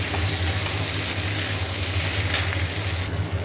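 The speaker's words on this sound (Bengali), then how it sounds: "এবার পেঁয়াজগুলো ভালো করে ভাজি" Onions and potatoes fry in a pan with a loud, continuous sizzle close by, a dense steady crackle with a faint stirring scrape near the end, no voices.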